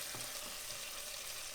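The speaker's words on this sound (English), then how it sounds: "You can see it's sizzling well." Tomatoes sizzle in a pan for pork apritada, a steady, close, hissing fry that stays even throughout, no talking.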